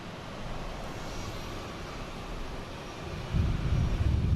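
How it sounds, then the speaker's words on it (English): Delta Airbus A321 airliner bound for Atlanta taking off at Boston Logan, a steady broadband jet roar with wind buffeting that swells louder and deeper near the end. "next taking off, we have I think it's a Delta"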